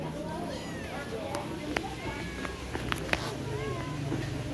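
A cat meows repeatedly at close range, asking for a drink, its short rising and falling cries scattered over several seconds against soft household background noise and a few light clicks.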